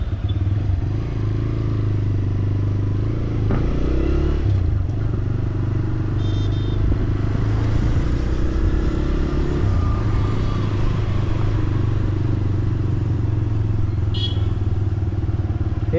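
A new motorcycle's engine runs steadily at low revs while being ridden slowly, a constant close rumble with occasional clatter and faint voices in the background.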